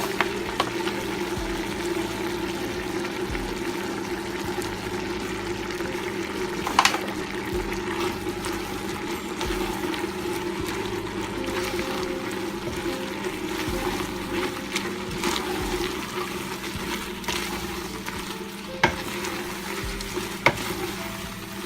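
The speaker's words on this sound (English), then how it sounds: "Time for the flour. We're going to put in 1 cup. Stir it in real well." Flour being stirred into a pot of chicken mushroom soup with tender vegetables, a steady low bubbling sizzle with occasional spoon knocks against the pot.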